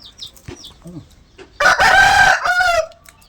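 A rooster crows loudly and close by in one long harmonic call, preceded by a few soft clucks and chirps.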